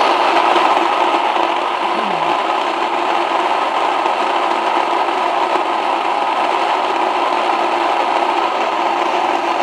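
A grain mill grinding wheat into fine flour, giving a steady, loud motorized drone with a dense, even texture that runs without a break.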